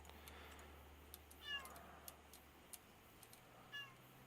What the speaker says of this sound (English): that is probably my cat you're hearing in the background